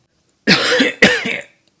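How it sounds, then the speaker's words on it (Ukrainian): Two hoarse, rasping coughs in quick succession from a nearby older-sounding voice, followed by silence. "Позаду них почувся старейший кашель"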